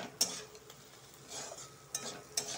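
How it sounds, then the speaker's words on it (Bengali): Spices with red chili stirred in a pan for a mushroom curry, faint low sizzling under a few sharp clinks of a spoon against the pan, quiet and close. "সবগুলো একবারে ভালো করে ভাজবো"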